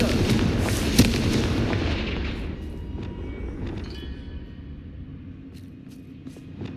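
A Confringo blasting spell detonates in Hogwarts Legacy, a loud booming explosion near the start with a sharp burst at one second, then a long rumbling decay with faint crackles trailing off.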